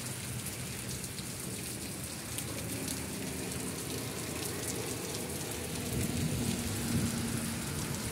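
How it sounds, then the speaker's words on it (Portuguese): Heavy rain pours down steadily, a dense hiss of drops drumming on surfaces, with a low rumble swelling near the end. "Chuva boa, graças a Deus, continua grossa, correndo água mesmo."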